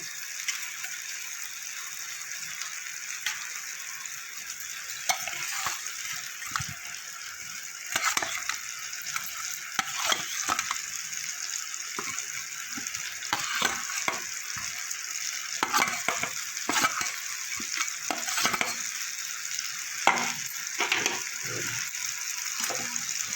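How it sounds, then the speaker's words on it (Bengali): Fried potatoes are tossed into sizzling spice masala where the oil has separated, a steady frying hiss broken by repeated scraping stir strokes throughout, for a charapona fish curry, with no voices. "এবার আমি ভেজে রাখা আলুগুলো দিয়ে দেবো"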